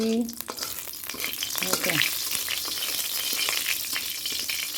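Dried red chilies and nigella seeds crackling in hot oil for a tempering, a dense loud sizzle with sharp pops and a few spatula scrapes, close and continuous.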